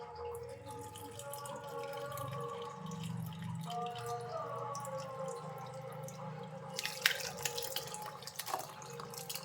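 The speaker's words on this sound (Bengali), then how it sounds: "ছানাটা জলটা ঝরিয়ে নিচ্ছি" Water drains and drips from fresh chhena curds in a homemade paneer recipe, a steady close trickle that turns to louder splashes near the end.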